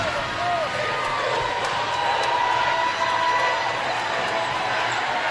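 A Hightower home crowd fills a gym at a 6A girls basketball state semifinal against San Antonio Church, a steady roar of cheering with sneaker squeaks and a commentator talking over it.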